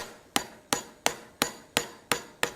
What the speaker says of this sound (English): You can also hammer this over at the anvil